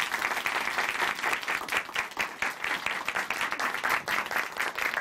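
A church audience claps to welcome someone speaker from a congregation in Chuncheon, with dense, even applause from many hands sustained for several seconds at moderate level and no talking.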